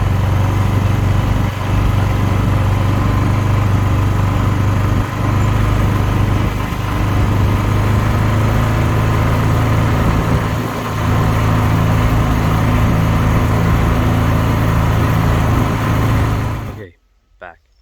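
An ATV fitted with a sprayer for Roundup on food plots runs loud and close with a steady engine drone, then cuts off abruptly near the end.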